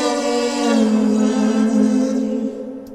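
A sung vocal line carries a pitch-shifted harmony an octave above it at a 27% mix, heard as a single sustained, smoothly gliding phrase that is close, clear and fades at the end.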